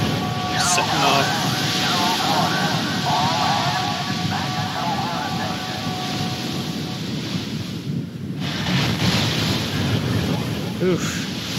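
Heavy water waves in a Philips CD-i video game, a steady loud rush of surf and wind filling the whole stretch, with faint tonal game sounds threaded through the early part.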